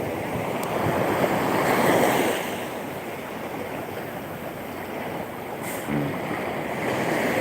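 Ocean waves break and wash in, one swell building and fading early, then a softer steady surge with wind buffeting the microphone.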